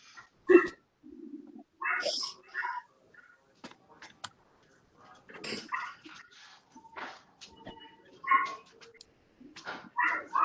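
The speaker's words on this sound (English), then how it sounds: "Is that your dog that's barking?" A dog barks and yips in short bursts during an online zoning commission meeting, mixed with whimpering sounds and a few scattered voices nearby.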